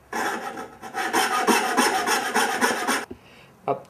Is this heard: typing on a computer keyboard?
no